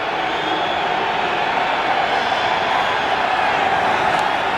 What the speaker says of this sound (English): Rabid Eagle fans, sellout crowd here at Veterans Stadium, enjoying the work of their defense